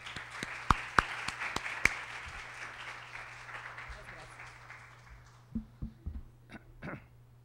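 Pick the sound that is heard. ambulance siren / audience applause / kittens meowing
audience applause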